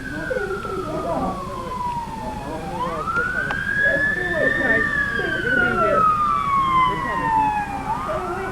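A police or emergency siren wails in long rising and falling sweeps at a staged drunk-driving crash scene, steady and fairly loud throughout, with distressed voices and low rumble underneath.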